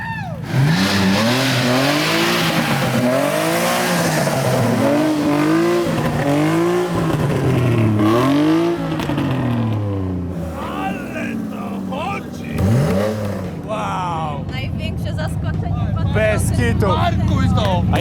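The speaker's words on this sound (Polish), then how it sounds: "nadciąga jakieś 6 cylindrów bez wydechu" A loud, raw BMW E36 2.8 six-cylinder engine with no exhaust revs hard and repeatedly, rising and falling in pitch as it approaches, with people talking over the racket.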